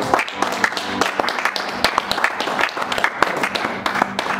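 A church congregation applauding an evangelist, a dense continuous burst of clapping from many hands filling the room, close and steady throughout.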